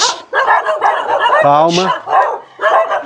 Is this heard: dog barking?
yes